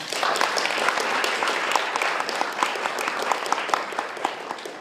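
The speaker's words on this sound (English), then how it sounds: "I want you to applaud the family and friends and faculty that have made this day possible for you. You give them a round of applause." Audience at a graduation luncheon applauding family, friends and faculty, a dense, steady wash of many hands clapping at close range for several seconds with no speech over it.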